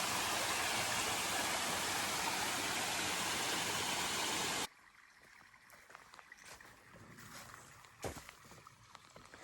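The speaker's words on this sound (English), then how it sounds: "Mountaineer Falls." Mountaineer Falls on the Appalachian Trail roars as a loud, dense rush of falling water for several seconds, then cuts to a quieter outdoor scene with faint wind and a few knocks.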